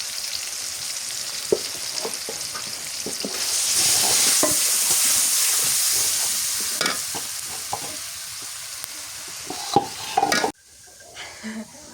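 Pieces of big river fish sizzle and fry in a pan with chilli, cumin, ginger and turmeric paste and salt while being stirred, a steady hiss that swells midway and then suddenly drops away near the end.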